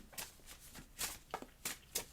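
Thin, flimsy tarot-style message cards are shuffled by hand in quiet bursts of soft riffling swishes, several short clusters in quick succession with no talk.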